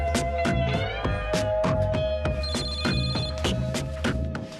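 A telephone rings in repeated rhythmic electronic bursts, close and fairly loud, before it is picked up.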